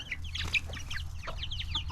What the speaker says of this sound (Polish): W kurniku masz kurczaki.